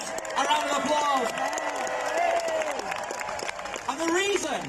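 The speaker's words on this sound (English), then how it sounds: "Give everyone who works in our NHS a round of applause." Audience applausing for NHS workers at a political rally: sustained clapping from a large crowd, steady throughout, with cheers and voices rising over it.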